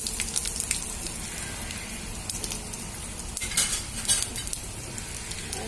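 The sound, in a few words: ginger pieces frying in tempering oil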